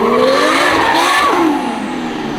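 A JZ coupe with a brand new clutch pulls away hard, its engine revving loud and close with rising pitch, then easing slightly as the revs settle, with a faint tire chirp under the roar.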